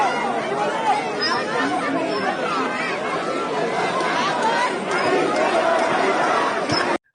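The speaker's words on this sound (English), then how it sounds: "So see, the crowd actually started saying Majid Reza Rahnavard" Large protest crowd in Iran's holy city chanting against the regime, a dense, continuous roar of many voices in unison sustained throughout, loud and close, ending abruptly.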